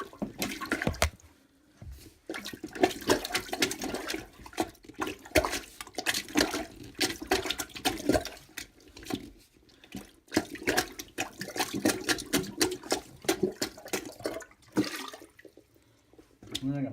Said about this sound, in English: on the upstairs toilet, we gotta empty this tank so we can fill it with antifreeze